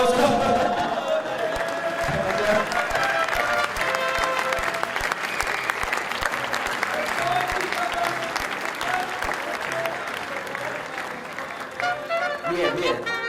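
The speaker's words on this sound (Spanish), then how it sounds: "Fuerte aplauso." Loud audience applause at a security conference, with mariachi music lingering underneath; clapping stays dense and continuous, tapering near the end.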